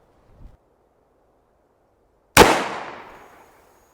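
A single sharp shot from a 9mm pistol firing a plus P bear load cracks loudly outdoors and echoes away over about a second, after a faint thump and near silence.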